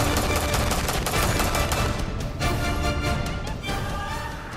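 Dense, continuous bursts of rapid gunfire crackle without pause, loud and chaotic like a sustained volley, with no voices.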